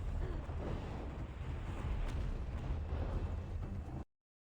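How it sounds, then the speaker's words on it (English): Explosions from thrown exploders in a video game: a dense, continuous rumbling roar of blasts that holds loud for about four seconds, then cuts off abruptly. "You threw the exploders in there."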